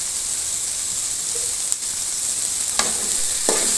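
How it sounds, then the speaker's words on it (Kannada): Tomatoes fry in an onion tempering for poha, a continuous close sizzling hiss broken by a few sharp utensil clinks and stirring scrapes, without voices. "ಇವಾಗ ನಾವು ಒಗ್ಗರಣೆಯಲ್ಲಿ ಟೊಮೊಟೊನ ಸೇರಿಸ್ಕೊತಿದ್ದೀವಿ"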